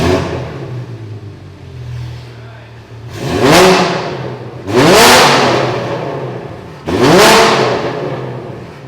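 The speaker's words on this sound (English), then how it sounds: "we're gonna get some exhaust notes just so you guys can hear the last time" Porsche GT4 with a custom titanium exhaust idles, then gives three sharp, loud revs, each rising and falling back toward idle, recorded close by with no talk.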